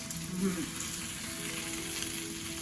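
Taro root (arbi) frying in oil in a pan for a Punjabi garlic arbi dish, giving a steady close sizzle with some stirring, with no one talking.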